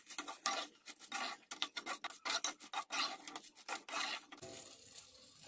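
Mushrooms being stirred in a pan for street-style Tamil kalan (mushroom manchurian): quick, rhythmic scraping and rubbing strokes of a utensil against the pan, close and fairly loud, with no talking.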